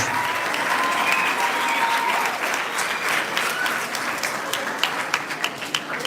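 Applause from an audience at a primary school event, dense clapping that gradually thins into scattered, distinct claps toward the end.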